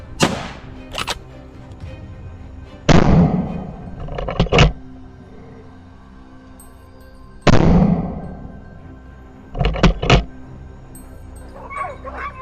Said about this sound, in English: A barrage of shots rings out